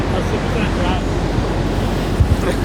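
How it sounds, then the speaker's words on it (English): Strong onshore wind gusts across a sand point at a surf beach, a steady broadband roar with breaking surf underneath, buffeting the microphone and swelling into brief louder gusts. "Oh, the wind."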